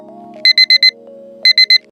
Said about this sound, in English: my alarm is so annoying